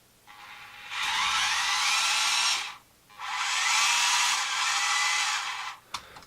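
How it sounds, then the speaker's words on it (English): The motor of a 1:18 scale JJRC RC rock crawler revs at full power in two sustained, loud, high-pitched whines. Each lasts about two seconds, with a short pause between them and a brief click at the end. "You can hear that motor just going full power there when we turn the steering."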